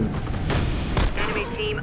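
Rapid bursts of automatic gunfire from the online shooter game Warface, loud and close with several volleys in quick succession, while a voice talks over the shooting.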